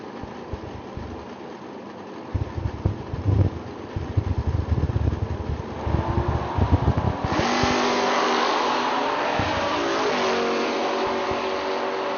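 A drag-racing truck and a car at a footbrake bracket event idle at the line, then launch hard together with a loud, sustained engine roar that stays strong down the strip.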